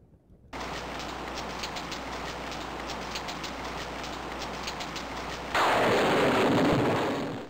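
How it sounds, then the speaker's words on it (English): Steady broadband hiss of heavy rain falling in the video game King's Quest VI, loud and continuous, growing brighter and more intense near the end, with a faint ticking pattern running through it. "It starts to rain."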